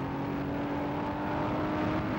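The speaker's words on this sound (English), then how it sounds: "Giving it a few more revs now by the sound of things." Porsche 935 race car engine revving on a circuit, a steady droning engine note with a sustained tonal hum and no talk over it.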